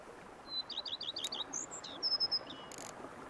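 Several small birds chirp and tweet in quick bursts of bright, high calls in a quiet outdoor scene in The Witcher 3: Blood and Wine, standing out clearly over a soft ambient hush.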